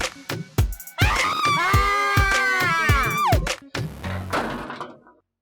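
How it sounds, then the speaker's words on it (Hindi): A girl lets out a long, loud scream lasting about two seconds, set among sharp thumps and knocks before and after, with a brief voice following. "इतना स्मार्ट लड़का देख के लड़की ने चीख मारा है।"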